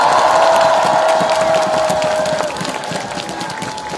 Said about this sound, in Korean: 우리 어려운 지역에서 고생한 우리 동지들 그리고 우리 모두에게 큰 격려의 박수 다시 한번 부탁드립니다